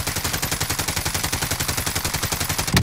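Rapid automatic gunfire from a video game rattles in an even, continuous stream of loud close shots, ending with a single heavy thump.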